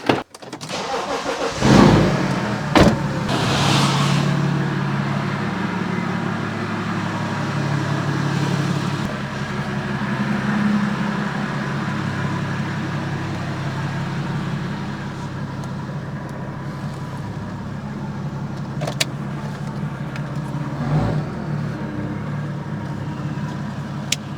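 A right-hand-drive BMW 335d converted to left-hand drive, heard from inside as it drives along: a steady low engine and road drone that holds for the whole stretch, with a few brief knocks and bumps over the top.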